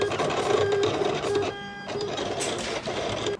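A Silhouette Cameo 4 cutting machine slices heat transfer vinyl with a steady, close whirring and mechanical buzz, its motor pitch shifting as the carriage moves back and forth.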